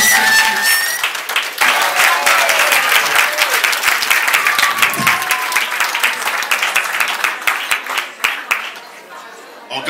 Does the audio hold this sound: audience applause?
yes